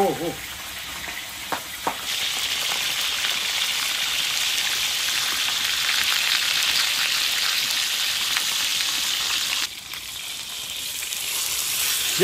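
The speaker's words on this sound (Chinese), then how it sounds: "鱼下锅煎" A large pond-caught carp sears in oil in an iron wok, producing a loud, continuous hiss of sizzling. A couple of brief clatters from the pan come near the start and the finish.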